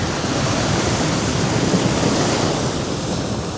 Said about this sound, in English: It's just so nice watching the waves